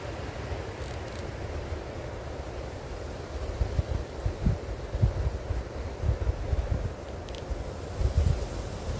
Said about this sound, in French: c'est pas une voiture, c'est tellement le vent il souffle